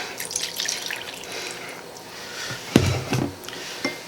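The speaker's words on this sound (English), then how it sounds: "and we'll put in our milk" Milk pours into a bowl of Jiffy cornbread mix and creamed corn, soft liquid splashes and dribbles rising near the end, with a few sharper wet impacts.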